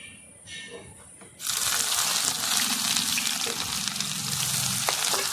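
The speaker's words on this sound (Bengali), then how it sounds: "পেঁয়াজটাকে ভালো করে লাল করে ভেজে নেব" Dried chillies and chopped onion hit hot oil, breaking into a loud, steady sizzle that fills the pan after a brief quieter moment at the start.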